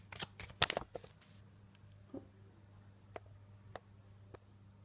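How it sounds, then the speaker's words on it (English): Cards riffled quickly in a loud burst near the start, followed by a few soft, scattered taps and flicks in a quiet room. "Sometimes I get a little bit too enthusiastic shuffling the cards."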